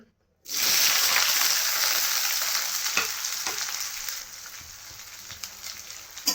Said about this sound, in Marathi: मी थोडं तेल काढलेलं आहे. ते कढई. आता आपण याच्यामध्ये ॲड करूया कांदे